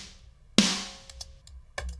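An original snare drum sample from a modern country drum mix gives one dry, crisp hit with a short decaying tail, followed by a few faint light ticks, quiet and isolated.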